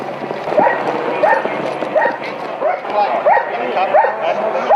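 Police dogs bark repeatedly in short, evenly spaced bursts during a police raid on a house, loud and close over busy background noise.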